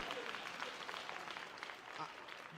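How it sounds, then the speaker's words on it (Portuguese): An audience at a church sermon applauding together, a steady wash of many hands clapping at a distance, fairly faint and continuous throughout. "todo mundo bate palmas para garantirmos que todos entenderam"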